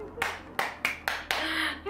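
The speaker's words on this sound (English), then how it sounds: "I can never stop clapping." Five sharp hand claps in an irregular rhythm, each a bright broadband burst with a short decay, close and fairly loud in a quiet indoor room with no talking.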